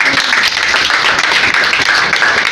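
A church congregation applauds together, a loud, dense and continuous wash of clapping that holds steady for the whole stretch with little variation.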